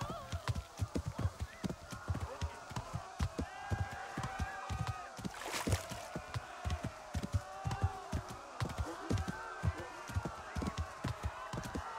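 A horse gallops in Kingdom Come: Deliverance, its hooves striking in a fast, rhythmic clip-clop that runs steadily throughout, with a brief louder burst partway through.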